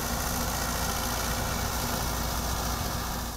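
A tractor fitted with a mounted insecticide sprayer runs steadily in a field, its engine droning loud and unbroken with a constant mechanical hum throughout.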